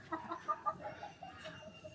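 Chickens cluck at a farm, several hens and a rooster giving soft, overlapping clucks in a steady, busy stream at moderate distance, with no talking.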